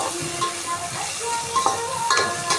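Ingredients for a Tamil fish curry sauté and sizzle in a hot pan, a close, steady frying hiss with occasional stirring scrapes and light clinks.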